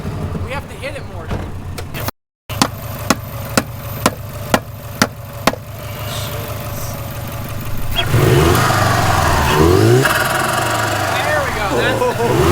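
Subaru WRX engine revving loudly with its blow-off valve hammered shut to force turbo flutter, a row of sharp pops and bursts over a steady engine drone that swells louder and rougher toward the end, with people talking nearby.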